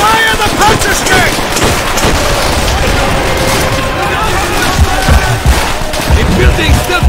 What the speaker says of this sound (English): Buildings still being shelled!